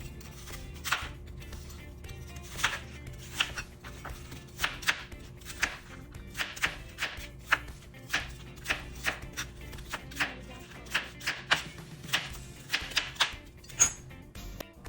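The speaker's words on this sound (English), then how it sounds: "Now we're going to slice our apples, and I want to slice them into little pieces." A knife slices apples into small pieces on a cutting board, giving a steady run of crisp, quick chops, close and fairly quiet, with no talking.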